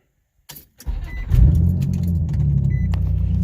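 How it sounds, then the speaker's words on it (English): A 2002 Nissan Maxima with aftermarket headers cranks and fires up after a brief key jingle, settling into a loud, steady, close idle rumble with no talk over it. "Alright, so let's start the car. Start the car."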